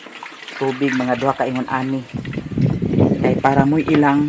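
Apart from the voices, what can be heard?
water being added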